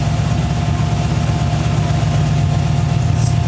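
A 1940 Ford Tudor Sedan Deluxe engine idles steadily and loudly nearby, a continuous low rumble with a faint rise in idle speed and no talking.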